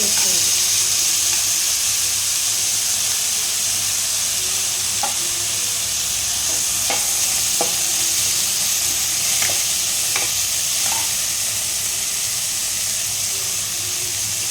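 Finely chopped tomato fries in a pan with a loud, continuous sizzle and hiss, while a spoon scrapes and stirs in a few scattered clicks throughout.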